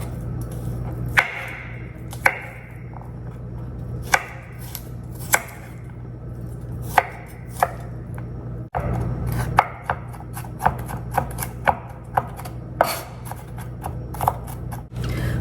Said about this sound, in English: you want to chop these pretty fine as well